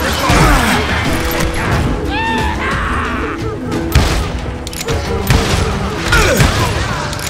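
Heavy covering gunfire in the Call of Juarez Gunslinger video game, a loud dense barrage of shots, crashes and thuds with a brief shouted voice, continuous and close throughout.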